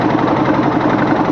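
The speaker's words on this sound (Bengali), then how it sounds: "আমি বোটটা চালিয়ে নিয়ে যাচ্ছি এখন" A boat engine drones steadily and loudly while the boat is underway on a fishing trip in the Sundarbans, a close, continuous low rumble with no voices.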